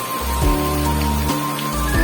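Heavy rain falls steadily and close by, forming a constant wash of noise beneath a low droning hum that breaks off and returns, with no voices.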